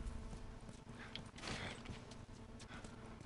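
Hooves of a horse in The Last of Us Remastered plod along in a loose rhythm, mixed with creaking and mechanical rattles over a dense, low game ambience.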